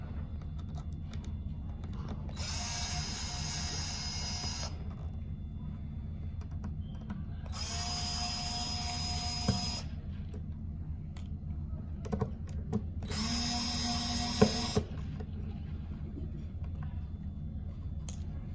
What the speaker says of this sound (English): We're going to remove those 4 screws.